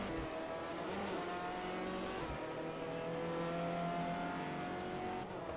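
A Ferrari race car launching off the start line in a racing video game at Road Atlanta, a steady loud engine drone with rising harmonic whine and engine noise from surrounding cars, continuous throughout.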